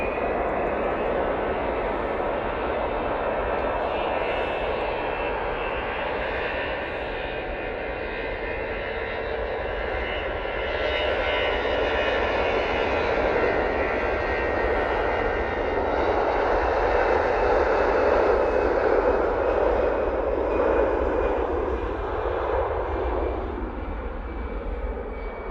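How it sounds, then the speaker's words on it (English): A Eurowings airplane takes off at Manchester Airport, its engines giving a powerful, continuous roar that swells in the middle and holds loud and steady for a long stretch. "off to Paris Charles de Gaulle Airport they go"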